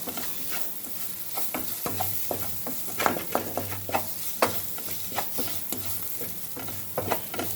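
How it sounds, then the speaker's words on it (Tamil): Coriander, mint and curry leaves frying in oil while a spoon stirs them in a pan, giving a steady close sizzle with scattered scraping and clinking strokes and no talk. "நல்லா பச்சை வாசம் போகிற அளவுக்கு நம்ம கிண்டிக்கிட்டே இருக்கணும்"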